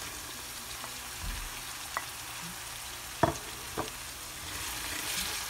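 Shrimp fry gently in a pan for a Gabonese salted fish and aubergine dish, a low constant sizzle with a handful of sparse clicks and taps from a utensil.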